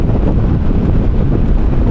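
Loud, steady roaring wind buffeting the microphone while riding an FKM Express 500 Racer motorcycle, a constant rushing noise with no voices.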